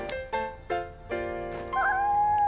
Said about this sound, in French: Un petit chat, on a un petit chat.